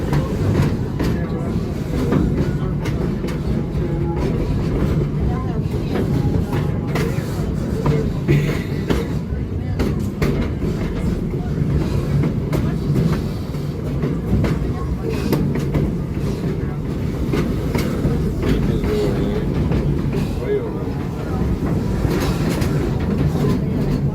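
A Busch Gardens safari train rolls steadily on its rails, giving a continuous low rumble with faint clatter throughout, while a guide speaks over it.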